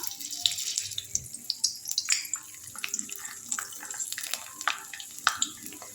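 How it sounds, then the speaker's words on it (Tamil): Murukku vathal snacks fry in hot oil in a kadai, a close, continuous crackling sizzle full of sharp pops and bursts that rise and fall irregularly. "பாருங்கள் எப்படி பொரியுது பார்த்தீங்களா?"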